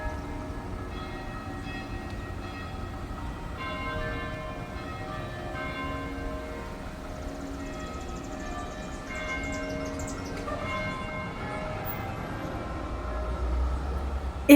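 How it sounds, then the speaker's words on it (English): Church bells in Carlisle ring out in a continuous, layered peal across town, heard from a distance with a steady background hum. "these church bells pealed out across town"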